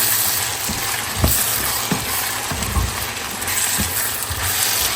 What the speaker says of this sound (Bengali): ছোলা দিয়ে পেঁয়াজ আলু দিয়ে একটু ভাজবো